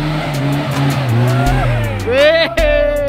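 A car driven out of a campsite on a hill at Panyawangan, Parongpong, Bandung, its engine revving and rising in pitch as it pulls away, up close and loud, with brief tire noise on the rough ground.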